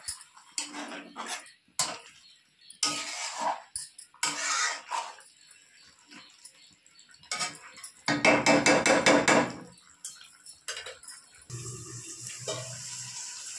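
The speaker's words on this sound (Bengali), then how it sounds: "আমি এখন মাংসটা এইভাবে নাড়িয়ে কষিয়ে নেব।" Chicken pieces being stirred and fried for a Bengali chicken kosha, with a utensil repeatedly scraping and knocking against the pan amid sizzling, sounding close and busy in irregular bursts.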